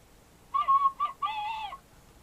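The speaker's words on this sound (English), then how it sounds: "I don't remember what it was called, like Irish whistle or something." A few short, breathy Irish tin whistle notes, a quick pair followed by one longer held tone with a slight bend, played quietly and alone.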